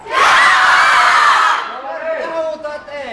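A crowd at a live stunt show in Helsinki roars with loud shouting and cheering for about a second and a half, then falls away to scattered voices and a few individual yells.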